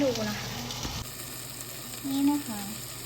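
Onions frying in butter in a pan for a homemade Japanese curry, giving a steady low sizzle with faint crackles and a few brief squeaky utensil scrapes near the pan.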